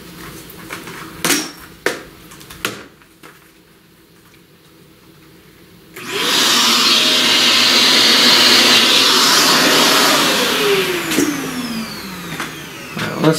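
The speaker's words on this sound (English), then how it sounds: "Vacuum that." A vacuum cleaner switches on during pastel drawing, a loud, steady whooshing roar that runs for several seconds after a few light taps and clicks, then winds down with a falling whine.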